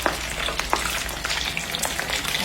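Shrimp crackle and sizzle in hot oil, a dense, close frying hiss with small pops throughout and no talking.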